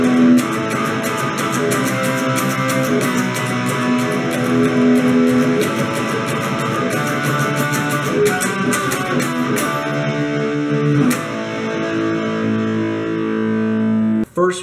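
Distorted electric guitar playing the chorus of a song through effects, a steady run of strummed and picked notes at full volume with a brief break near the end.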